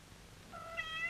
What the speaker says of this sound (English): Get out of my kitchen, you ornery cat, or I'll chop you to cat burgers.